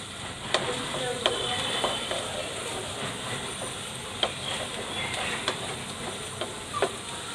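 Chopped carrots and green beans sizzle in an oily pan, a steady broad hiss with occasional stirring scrapes and clicks throughout, close and fairly loud.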